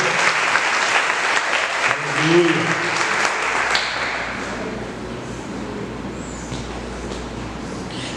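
A church congregation applauds to glorify the Lord, dense sustained clapping that is loud at first and gradually thins and fades, with a voice calling out briefly.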